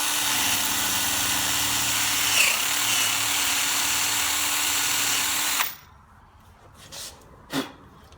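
A power drill whines steadily at high speed for several seconds, boring into wood, then cuts off abruptly, followed by a couple of soft knocks.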